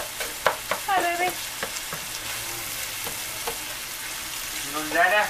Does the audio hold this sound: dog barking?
no